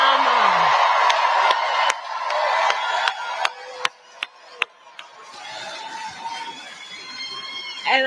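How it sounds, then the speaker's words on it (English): Rally crowd in Kalamazoo applauding the former First Lady, with a steady wash of clapping and cheering, scattered sharp claps and whoops, slowly thinning toward the end. "Can we please applaud my dear and incredible friend, the former First Lady, Michelle Obama."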